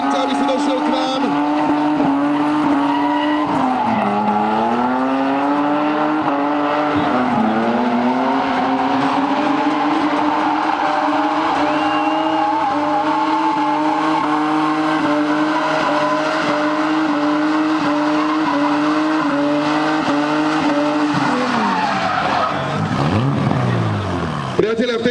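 Drift cars at the Galatrade Drift Challenge at Paddock Pezinok, engines wailing and tires squealing continuously through the whole stretch, with rising and falling revs, loud and close, under steady crowd and announcer-type voices.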